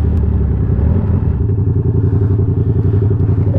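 A 2021 Kawasaki ZX10R superbike engine idles and burbles steadily up close, a loud continuous low throb with slight rhythmic pulsing and no talk.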